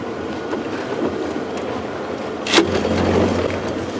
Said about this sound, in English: I just hit the brakes very hard